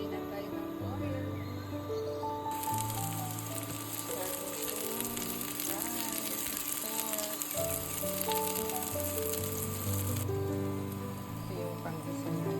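Ginger, garlic and onion sautéing in hot oil for pinakbet, a steady bright sizzle under background music, with a voice speaking briefly.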